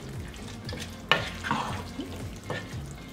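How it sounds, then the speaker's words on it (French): Sliced peppers fry with minced beef in a pan, producing a moderate sizzle with a sharp clatter near the start and a few stirring scrapes, over a faint tonal backdrop. "Je rajoute mes poivrons. Et on va laisser mijoter à découvert cette fois"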